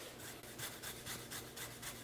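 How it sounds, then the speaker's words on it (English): Ginger root rasped back and forth on a very sharp microplane grater, a steady rhythmic scraping with regular strokes about every quarter second, close and alone. "So I'm just going to run it along back and forth."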